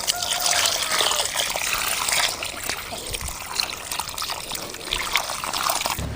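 Water is poured from a container onto a freshly planted neem seedling in soil, a steady trickling splash with some background noise and voices around it.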